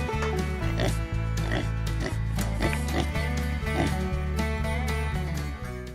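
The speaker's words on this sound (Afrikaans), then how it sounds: "Hierdie is varke." Farm pigs grunt and oink repeatedly in a busy, overlapping stream of short, loud snorts close by, some deeper and some higher, with no gaps.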